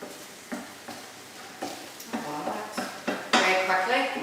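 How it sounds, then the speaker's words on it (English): A utensil stirs a free-range egg mixture in a hot pan for fried rice, giving repeated scraping clinks against the metal over a soft sizzle, growing louder toward the end. "just stirring this, like scrambled egg consistency you're looking for here."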